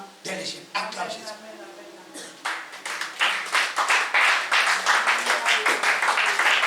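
Church congregation applauding during a French-language sermon, scattered claps at first building into sustained, loud rhythmic clapping, with voices speaking underneath early on.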